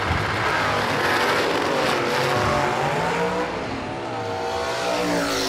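Drag racing cars, a Chevelle and a Camaro among them, roar at full throttle down the strip in a Pro Stick round, a loud continuous engine howl that shifts pitch as they pass.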